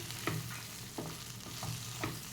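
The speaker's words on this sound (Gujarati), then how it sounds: "હવે થોડી વાર થાય એટલે આવી રીતે ફરી આપણે એને હલાવી લઈશું" A spoon scrapes and stirs stuffed bhindi masala (okra) in a pan, with four or five distinct strokes over a soft, steady sizzle. No one speaks.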